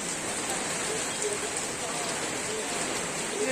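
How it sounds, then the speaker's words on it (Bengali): Heavy downpour during a storm: a dense, steady roar of rain hammering surfaces, loud and unbroken throughout. "ঝড় হচ্ছে তার সঙ্গে বৃষ্টি মুসলধারে বৃষ্টি হচ্ছে"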